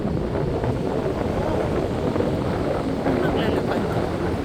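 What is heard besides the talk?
wind at a pink sand beach in Bermuda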